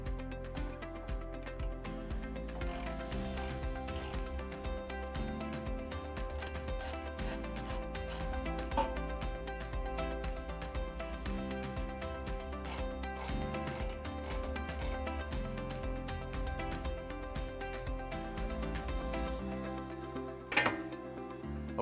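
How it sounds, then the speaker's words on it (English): A large ratchet loosens the 10mm bolts holding the rear bumper beam of a 2018 Lincoln Continental, producing fairly quiet, continuous rapid clicking and rubbing with occasional sharper ticks, without any talking. "remove the rear bumper beam, and it's held in place by 4 10mm bolts on each side. So we're gonna do that with a large ratchet."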